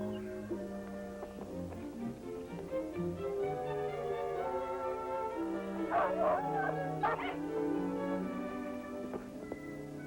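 A dog barks and whimpers in a 1958 wolf-dog film soundtrack, short yelps and whines heard faintly beneath layered music, with a couple of sharper cries standing out midway.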